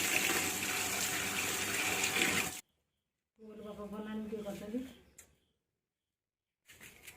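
Tap water gushes steadily over raw chicken being washed for a home biryani, a close, continuous rush that cuts off abruptly, followed by a short stretch of voice and then quiet.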